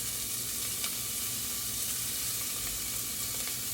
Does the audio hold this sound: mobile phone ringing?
no